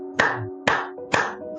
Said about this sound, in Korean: 이렇게 막 박수를 치기 시작하더랍니다.